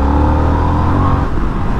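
A 2022 Harley-Davidson Sportster S engine revving, a loud, close, deep throaty roar with a thumper-like pulse, sustained and steady without any speech.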